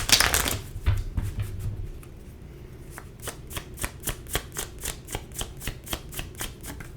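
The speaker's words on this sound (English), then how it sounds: "So I want to go ahead and pull some cards to see, like, what they want to say to you." A deck of tarot cards is shuffled in a quick, loud riffle, then cards are pulled and snapped down one by one in an even, rhythmic series of crisp flicks, close by with no talking.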